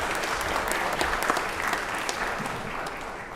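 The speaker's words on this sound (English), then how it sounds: "Let's give Kia a big round of applause here for being here today." Legislative chamber members applauding visiting guests from Kia, a dense, even burst of clapping that continues throughout without speech.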